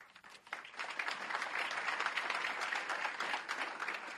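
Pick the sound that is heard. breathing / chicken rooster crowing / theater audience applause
theater audience applause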